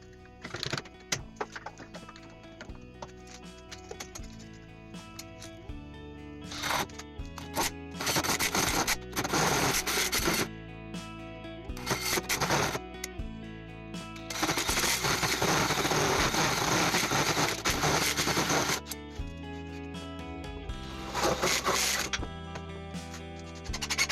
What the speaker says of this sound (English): I'm going to drill the holes.